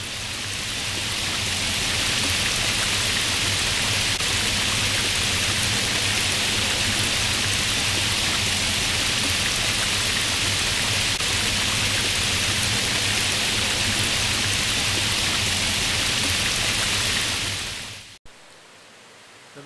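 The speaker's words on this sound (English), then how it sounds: "The sound of the water on the walls evokes thoughts of a gentle rain shower." Water cascading down the terraced walls of the Fort Worth Water Gardens pool, a loud, steady, rain-like hiss that holds without change for most of the time before cutting off abruptly near the end.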